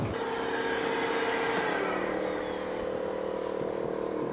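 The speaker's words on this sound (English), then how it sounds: "the vacuuming is done" A vacuum cleaner runs in one steady, loud whir while it cleans boat hulls in a boat-building kit shop. The drone shifts slightly in pitch partway through and carries on without any talk.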